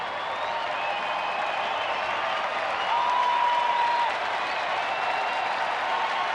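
A large baseball crowd at Globe Life Park roars and claps steadily, a broad distant wash of cheering and applause that swells briefly midway, with a faint whistle on top.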